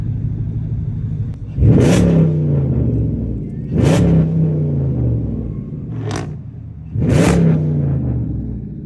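Dodge SRT8 V8 engine revved hard three or four times in a row, each sharp roar climbing then falling back to a deep, rumbling idle between blips, close and loud.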